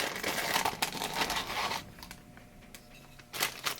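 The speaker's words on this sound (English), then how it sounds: "Just a plastic bag in a box" Close, crinkly rustling of a plastic bag from a rifle grip's packaging box, loud at first, quieter briefly, then a final burst of crackling.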